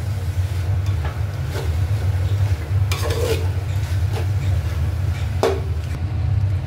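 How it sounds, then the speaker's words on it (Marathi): Marinated chicken is stirred and mixed in a pot for chicken dum biryani, with a low steady cooking rumble under repeated scraping stirs and a couple of sharper clatters. "आता हे मिश्रण पूर्ण आपण सर्व एकजीव करून घेऊयात छानसं"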